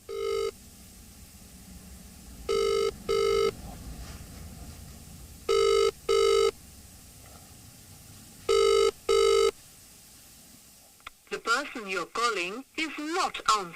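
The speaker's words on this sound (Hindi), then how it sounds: "मैंने उनको फोन मिलाया है।" An outgoing phone call ringing unanswered, with a clear repeating double ring tone sounding in regular pairs, followed by a recorded voice-like message at the end.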